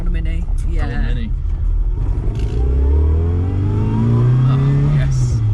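A classic Mini driving along narrow Manx country lanes, its engine droning and rising in pitch as it accelerates, heard from inside the cabin with people chatting over it.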